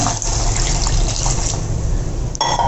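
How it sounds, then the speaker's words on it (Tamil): Water pours steadily into a pan holding cashews and ginger-garlic paste for a paneer butter masala. It is a loud, continuous splashing fill that runs close to the microphone for the whole stretch and shifts slightly near the end, with no voices. "இது எல்லாத்தையுமே போட்டு 1 கப் அளவுக்கு தண்ணி அதில் சேர்த்துடணும்."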